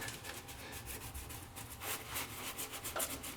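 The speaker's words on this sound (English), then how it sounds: "we're just going to test an area and make sure that we can scrub this" Close, steady rubbing and scrubbing over a tiled surface as a freshly placed Laticrete Spectralock Pro epoxy grout joint is worked, with repeated brushy strokes that rise and fall in short bursts, no voices.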